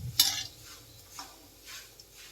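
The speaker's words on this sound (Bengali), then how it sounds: "এবার মুড়ি মাখাবো।" Puffed rice is stirred and tossed for jhal muri, with a sharp scrape or clink at the start and then soft, intermittent rustling strokes, close and quiet.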